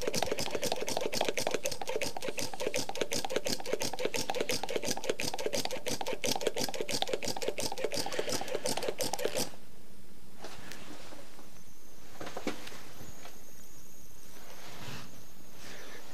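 Hand pump pressurizing the cooling system of a Mercedes W123 or Volvo 240 to find a coolant leak: rapid, steady mechanical strokes fill the first nine seconds, then stop, leaving a quiet room with faint hiss and small clicks.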